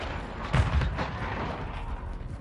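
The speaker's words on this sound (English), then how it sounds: "Grenade out." A grenade detonates in a PS4 war game, a single heavy booming blast that rumbles briefly and then fades into a low sustained roar of battle noise.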